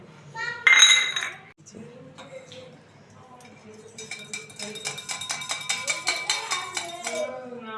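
Glass clinks as a glass of Glucon-D water is served in a home, a sharp cluster early, then rapid light tinkling and clattering like a spoon stirring in glass, with a voice speaking nearby.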